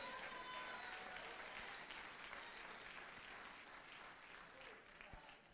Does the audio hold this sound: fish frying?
no